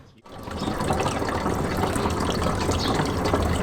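Motorcycle coolant drains from the drain bolt through a funnel into a bottle, a steady close gushing and trickling of liquid that starts abruptly and keeps flowing without a break.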